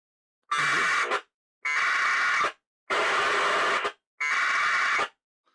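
A radio receiver plays a modem-like data signal in four even bursts of harsh buzzing tones, each about a second long and split by brief silences.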